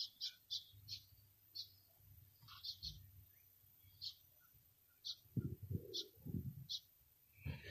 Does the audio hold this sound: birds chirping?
yes